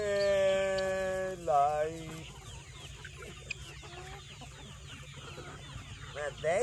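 Homestead chickens cluck and murmur softly nearby, with an opening longer call from a rooster or hen, then scattered quiet clucks over a faint background and a voice now and then.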